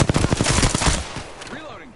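Rapid automatic gunfire in Apex Legends, a dense close burst of shots for about a second, then fading echoes and a brief voice-like sound.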